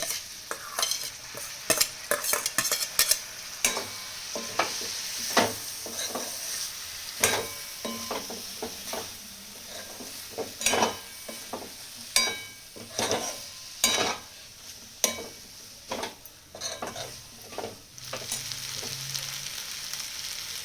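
Washed dal added to a hot pan for a dal and brinjal curry, a steady sizzle under repeated scraping and clinking of a spoon stirring against the pan, close and continuous.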